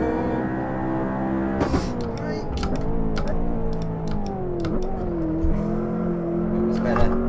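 A McLaren P1 hypercar in Assetto Corsa revs high near 8,000 RPM, a sustained loud engine whine that climbs and dips with gear changes and sharp transient clicks, while someone talks over it.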